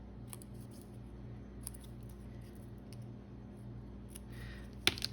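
Scissors snip the corners off a playing card, a few faint, sharp clicks over a quiet background hum, with one louder snap near the end.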